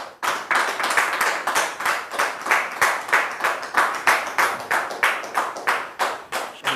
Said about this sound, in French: sous vos applaudissements, bien sûr.